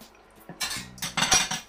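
A small whisk mixes egg yolks and caster sugar in a bowl, giving a few quick, bright metallic clinks and scrapes in short bursts, close and moderately loud.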